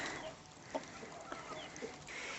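Broiler chickens in a home coop give soft, scattered clucks and short calls over a steady hiss of background noise, moderately close and fairly quiet, with no talking.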